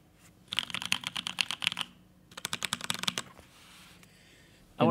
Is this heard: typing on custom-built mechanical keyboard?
yes